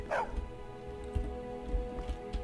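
A dog in the video game Skyrim gives a short, sharp bark at the start, followed by fainter yips and shuffling noises over a steady background hum.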